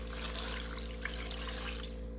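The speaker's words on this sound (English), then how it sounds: "now all I'm going to do is add in my vinegar and water" Vinegar and water poured into a batch of unfermented hot sauce, making a continuous soft trickle of liquid over a steady low electrical hum.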